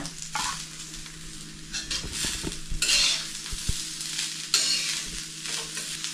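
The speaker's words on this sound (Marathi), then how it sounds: "खोबऱ्यामध्येच आहे ना कांदा टाकायचा, म्हणजे कांदा पण खोबऱ्याबरोबर चांगला भाजून येतो" Chopped onion and coconut dry-roasting together in a pan, with a steady close sizzle and repeated scraping strokes of a spatula stirring them, no voices.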